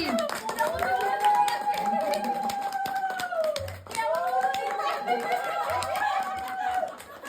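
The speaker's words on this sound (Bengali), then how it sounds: "হাততালি।" Hands clap in repeated sharp strikes beneath a prominent melodic voice-like tone that rises and falls, fairly close and moderately loud.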